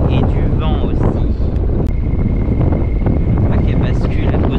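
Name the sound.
wind blowing against the microphone outdoors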